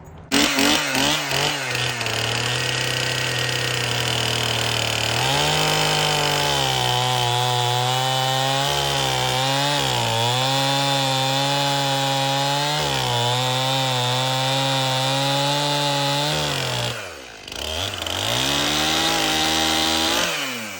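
A chainsaw cuts cordwood logs for a sauna, running loud and close with a steady high whine that bogs and rises as it bites into the wood, briefly dipping near the end, with no talking.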